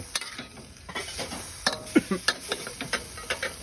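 Chunks of Mekong giant catfish stir-fried in a pan, with a soft sizzle under sharp, evenly spaced clicks of the spatula against the pan, close by and with no talking.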